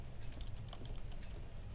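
Computer keyboard typing, a quick irregular run of soft, close key clicks over a low background hum.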